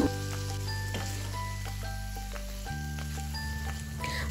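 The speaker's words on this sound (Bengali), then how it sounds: "ভালো করে ভেন্ডি আর মশলাটাও একটু কষে নিয়েছি" Okra and spices sautéing in a pan give a steady, soft sizzle that runs throughout, beneath sustained tonal background sounds.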